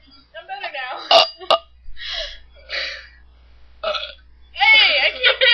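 Children in a burping contest let out a series of loud, close burps, some short and sharp, others long and drawn out, with gasps and chatter between them.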